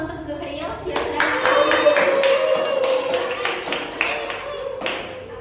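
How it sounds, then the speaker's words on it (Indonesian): Classmates in a sociology microteaching class applaud a student named Zuhril, with scattered hand claps rising into a steady round of applause for about five seconds while voices murmur along. "Berikan aplaus untuk Zuhril"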